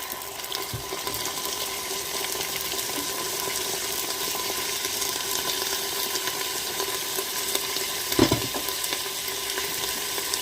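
Lentils tipped into a Cookeo multicooker after browning mode give a steady, even sizzle of frying, with a brief clatter near the end and no talking.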